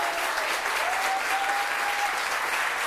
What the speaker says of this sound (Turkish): Alkışlar Kütahya'ya, evet, ayakta alkışlıyor izleyicilerimiz.